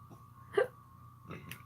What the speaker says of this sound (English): I cannot get over these hiccups.